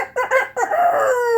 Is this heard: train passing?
no